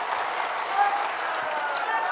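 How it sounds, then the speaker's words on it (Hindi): A crowd at a political rally in Bihar applauds loudly and steadily, dense clapping rising in a welcome with a murmur of voices mixed in. "एक बार जोरदार"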